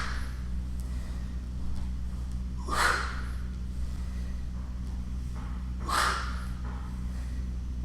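Two forceful breaths exhaled through the mouth during a workout exercise, each a short breathy whoosh about three seconds apart, close and clear over a steady low background hum.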